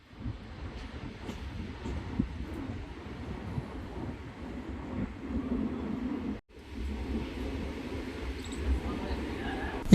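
A DEMU train on the Secunderabad to Siddipet line gives a steady, moderate rolling rumble from on board, with one brief cut in the sound near the end.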